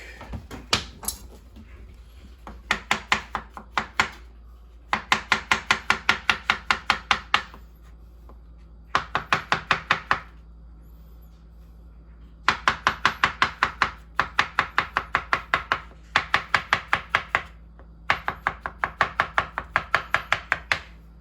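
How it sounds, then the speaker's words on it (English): Mushrooms being diced with a knife on a cutting board, in fast rhythmic bursts of sharp chops with short pauses between runs, close and clear, no talking. "Nice diced mushrooms."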